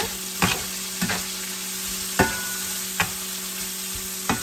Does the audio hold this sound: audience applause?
no